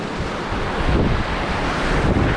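Big ocean waves roll and crash at a beach during a fishing outing, a loud continuous surf roar mixed with wind buffeting the microphone.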